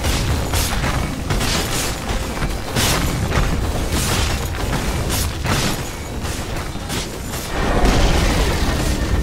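Dense, loud battle din from Dota 2 as a middle tower is destroyed, with heavy booms and crashing bursts recurring every second or so over a constant roar of game effects.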